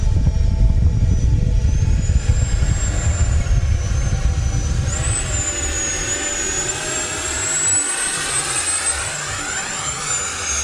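An FMS Rafale or Freewing Gripen RC model jet flies past with a loud, continuous ducted-fan whine that rises and shifts in pitch as it slows at high angle of attack, strong throughout, with no talking.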